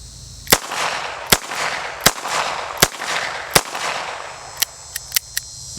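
Smith and Wesson .38 special revolver fired rapidly outdoors, five sharp loud cracks spaced under a second apart, then a few faint clicks of the empty cylinder.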